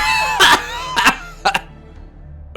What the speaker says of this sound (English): Why must it trouble me with a coughing fit now?